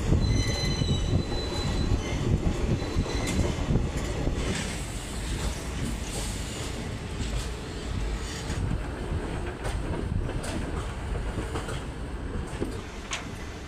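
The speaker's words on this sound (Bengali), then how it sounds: "আমাদের ট্রেন তার প্রথম হল্ট বার্নপুর স্টেশনে ঢুকছে।" An Asansol-Haldia superfast express rolls into Barnpur station with a heavy rumble of wheels on rails, rhythmic clacking and high squealing from the wheels, heard steadily from aboard with no talk.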